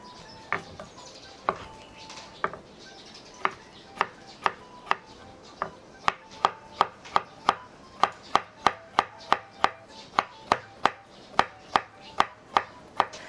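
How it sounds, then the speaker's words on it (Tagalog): A knife chops cucumber, onion and carrots for a Korean potato salad, striking the board in sparse knocks at first and then in a fast, steady, evenly spaced run of sharp taps, close and alone. "natapos na natin pag-chop ng ating mga gulay, our pepino, onion, and carrots"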